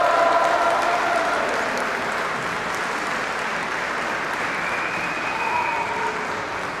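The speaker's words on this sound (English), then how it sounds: "And applause there for Jon Mason." A crowd at a Glasgow East by-election count applauds a victory speech in a loud, sustained wash of clapping that holds steady throughout, with cheering voices faint underneath.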